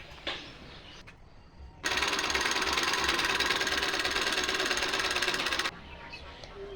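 A sewing machine runs steadily for about four seconds, stitching an old saree into a quilt cover, then stops, with quieter handling noise before and after.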